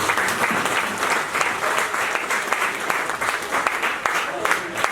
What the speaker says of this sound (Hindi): उनके लिए विशेष तौर पर तालियां हो जाएं।